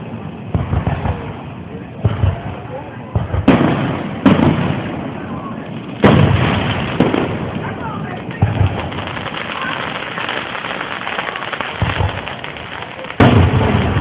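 A Fourth of July fireworks display in Porterdale in 2011 booms with repeated loud bursts and sharp cracks at uneven intervals, some close and heavy, with people talking over the blasts.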